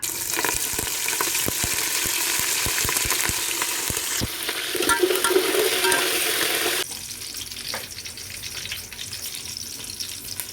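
Cumin, mustard seeds, garlic and curry leaves hit hot oil in a pot, crackling and sizzling with rapid, sharp pops up close, then the hiss eases to a quieter, steadier fry partway through.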